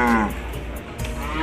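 Cattle moo at a calf market, one low, drawn-out call up close at the start amid a steady murmur of the busy market and other livestock.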